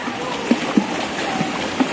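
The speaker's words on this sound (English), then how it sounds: "It's a splash." A child splashing in a swimming pool, with a few short, light splashes close by over a soft watery background.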